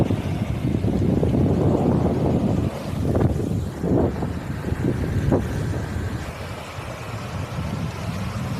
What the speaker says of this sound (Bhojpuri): और देखिए पानी जाके नदी में मिलता। और देखिए धार कितना तेज चलता।